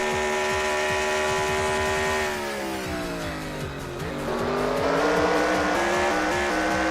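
Next-gen stock cars on a road course in NASCAR Racing 2003, a pack of engines roaring loudly through a hairpin, pitch dipping under braking and then climbing again as they accelerate out, with faint tire squeal.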